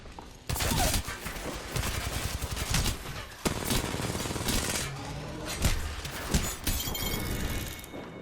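Gunfire in the Apex Legends video game: dense, loud bursts of shots with sharp breaking, shattering impacts, continuous for several seconds with brief lulls.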